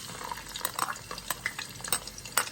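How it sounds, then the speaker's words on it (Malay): Sliced onions hitting hot oil in a pan for a Malaysian chicken curry, a soft steady sizzle broken by repeated sharp clinks and scrapes of stirring, close and moderately quiet with no talk. "minyak dah panas, kita masuk bawang dulu"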